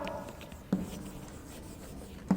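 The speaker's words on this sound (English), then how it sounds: "I am going to write one question on the board" Chalk scratches faintly across a classroom board as a teacher writes, soft steady scraping with two light taps as the chalk meets the surface.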